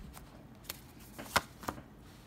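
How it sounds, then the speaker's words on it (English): Tarot cards being shuffled during a reading, heard as a few soft, quick riffling bursts over a quiet background, one sharper flick near the middle. "let me shuffle. Let me deal already."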